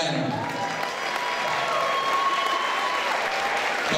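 Audience applause with some cheering for two young boxers after an amateur bout, heard as steady, dense clapping from a crowd that stays level throughout.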